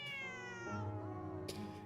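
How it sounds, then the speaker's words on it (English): A cat gives one long, drawn-out meow in a video game setting with background music, falling in pitch and then trailing off, followed by a brief click. "There's a cat."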